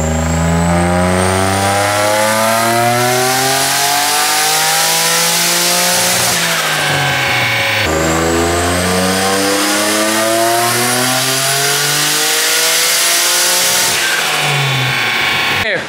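Turbocharged Nissan 350Z with an aggressively set boost controller, engine screaming through two loud full-boost pulls, each rising steadily in pitch before a sharp lift-off, with turbo whine on top.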